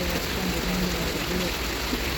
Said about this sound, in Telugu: ఈవినింగ్ 6 స్టార్ట్ అయిన వర్షం ఫుల్గా పడుతూనే ఉంది